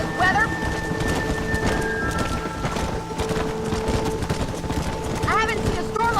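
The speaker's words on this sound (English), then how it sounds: "I haven't seen a storm like this for a while." Heavy rain patters steadily during a thunderstorm in Red Dead Redemption, with a low rumble of thunder and hoof clops under the downpour, and a short tonal call near the start and end.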